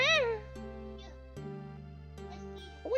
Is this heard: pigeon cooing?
no